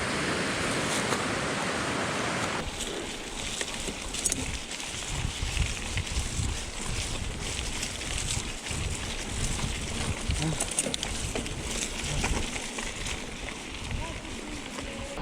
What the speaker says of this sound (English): Always good to hear a waterfall when you're climbing.